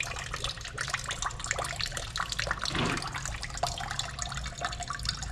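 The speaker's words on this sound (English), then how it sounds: "That's a lot of water." Water drains in a steady splashing, trickling stream from a Farmall B tractor undergoing restoration, running continuously and fairly close for the whole stretch with no talk over it.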